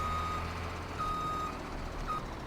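Repeating reversing beeps from a truck backing a trailer in Farming Simulator 17, steady tones pulsing over a low engine rumble, with no talking.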